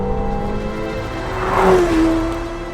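A McLaren 750S Coupe supercar lapping a race track at speed, its engine a steady, moderately loud drone that swells and rises in pitch as it draws closer, then eases off.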